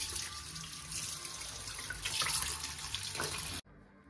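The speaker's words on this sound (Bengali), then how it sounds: "তো মাংসটা ধুই এখন।" A kitchen tap runs steadily as large chicken leg pieces are washed under it, water splashing close with a few louder surges before the flow cuts off abruptly.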